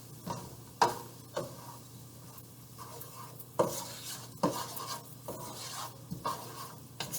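Kabocha squash stuffing is stirred in a pot, with soft, quiet scrapes and occasional clicks of the spoon against the pot rim, spaced irregularly over a low steady background hum.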